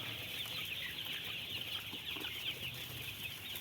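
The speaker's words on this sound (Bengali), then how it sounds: "এই যে কত মুরগি বেরালছে" Farm chickens let out to roam and graze on grass outside, with faint scattered clucks over a steady high hiss of insects or distant birds, fairly far off.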